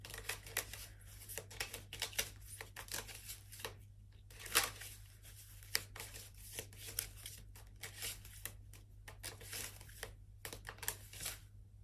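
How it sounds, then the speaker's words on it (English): Tarot cards being shuffled by hand in a quiet room: faint, repeated papery riffles and slaps in irregular bursts, with no one talking. "I'm gonna shuffle."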